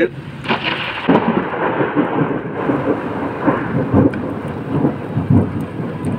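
Thunder rumbles through steady rain during the season's first storm, with a loud crack near the start and ongoing rolling booms over the rainfall's constant hiss.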